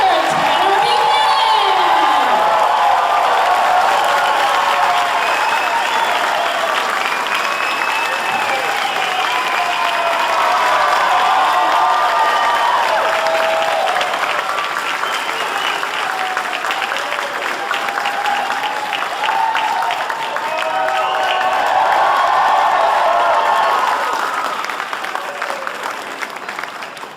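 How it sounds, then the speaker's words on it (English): A large convention crowd at Megacon applauds and cheers as the Cobra Kai cast, including Ralph Macchio, Mary Bowser and Tanner Buchanan, walks out, with loud continuous clapping, whoops and shouts sustained throughout. "I need a large round of applause for Ralph Macchio, Mary Bowser, Tanner Buchanan."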